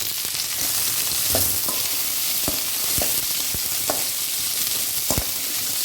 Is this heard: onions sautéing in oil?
yes